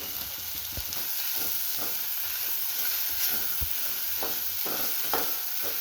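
Ingredients such as mint roast in a hot pan for a field-bean sambar, giving a steady close sizzle and hiss broken by scattered clicks and scrapes of stirring throughout.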